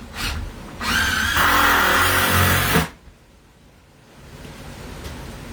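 A power drill drives a screw into wood, whirring loudly for about two seconds after a brief start, then stopping, followed by quieter background noise.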